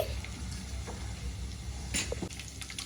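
Tomato chutney being stirred in a pan, a soft continuous sizzle with faint scraping and occasional small clicks of the spoon, low and close with no talking.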